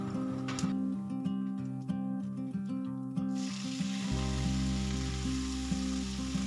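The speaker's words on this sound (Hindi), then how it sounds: "जीरे का तड़का लगाएंगे और हाफ बॉईल कटहल को डाल देंगे" Half-boiled jackfruit sizzles and fries steadily in hot oil tempered with whole cumin, a close, continuous crackle with a humming stove tone underneath and no talk.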